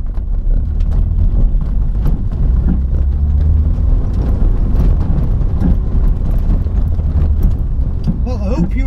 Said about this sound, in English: I hope you enjoyed that little ride in the MR2 down to Abergele and back